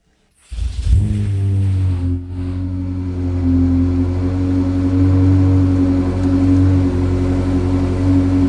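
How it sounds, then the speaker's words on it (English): A Ferrari with a track exhaust fires up from cold, a sharp starter crank and bark, then a loud, steady, deep idle that holds at elevated revs, rumbling close by. "Are you guys ready for a cold start?"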